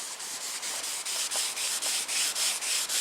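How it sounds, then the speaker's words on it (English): Rigid sanding block rubbed over candy blue custom car paint, a rhythmic series of about a dozen even back-and-forth scrubbing strokes, close and clear with no voices. "once I start sanding with this block,"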